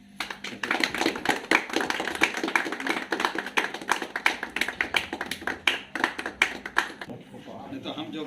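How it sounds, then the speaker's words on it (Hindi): A group claps hands at the opening of an acupressure centre in Sitapur, a dense, steady patter of many claps that ends abruptly, with voices talking underneath. "ताली बजाओ।"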